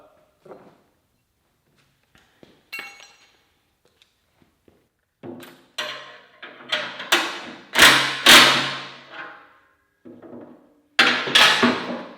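A Piranha tooth bar is pounded into place with a series of heavy, irregular thuds, a few faint taps first, then louder strikes that build toward the end. No talking.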